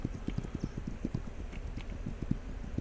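Horses clip-clop in a video game, a steady run of quick, soft hoofbeats at a moderate distance over low wind.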